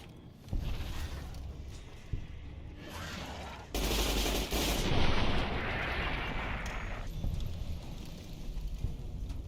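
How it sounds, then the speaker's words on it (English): Dense gunfire in Fallout New Vegas, with the sustained rattle of a machine gun and heavy blasts blending into a loud continuous barrage. "Probably should use the machine gun instead."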